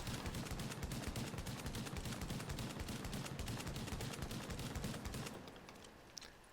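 Striker shotgun in The Division, fired in rapid sustained bursts as a dense unbroken stream of shots for about five seconds, then trailing off into fading echoes, loud and close, no talk.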